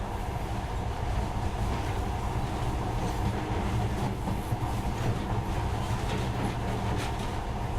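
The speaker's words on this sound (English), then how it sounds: "In the past, trains were ordinary things, but now, this monorail seems magic, doesn't it?" Steady, dense rumble and rattle of a monorail train running in the video game Metro Last Light, a continuous rolling roar with faint clatter throughout and no speech.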